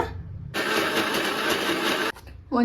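A grinder whirs loudly for about a second and a half while blending grated coconut into a fine paste for appam, then cuts off abruptly, and a brief new whir starts at the very end.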